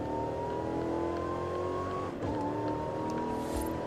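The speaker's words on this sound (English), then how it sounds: "can really hear that supercharger now" A supercharged full-size Range Rover in Forza Horizon 5 revs hard with a steady, loud engine note and supercharger whine, dipping briefly mid-run before climbing again.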